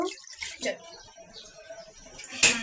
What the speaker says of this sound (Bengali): এখন আমি পানি দিয়ে